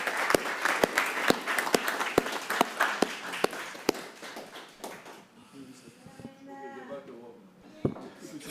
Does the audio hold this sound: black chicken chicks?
no